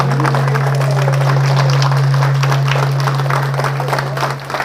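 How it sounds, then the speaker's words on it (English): Audience at a senior center event clapping for a guest speaker, dense scattered handclaps building and holding steady, then thinning out near the end, with a low steady hum underneath. "let's give Roger a big round of applause"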